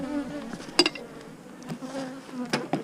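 Bees buzz on a hive frame of an active colony, a soft close hum with a few sharp clicks and brief louder bursts.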